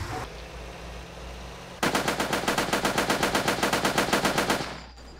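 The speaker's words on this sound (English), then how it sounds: "I hear gunshots, and I'm not prepared for that." In the multiplayer game Sub Rosa, a burst of rapid automatic gunfire erupts after a quiet start, a fast, even rattle of shots that runs for about three seconds before cutting off.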